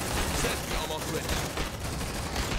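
Sustained rapid fire from a deployed sentry gun in Aliens: Dark Descent, loud and continuous, mixed with dense battle noise and voices.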